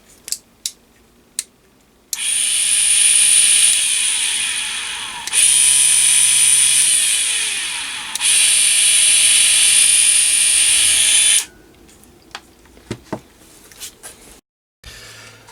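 A 220V 72W variable speed micro electric hand drill runs in three loud, high-pitched whining bursts with brief pauses between them, bracketed by sharp clicks of the switch before and after.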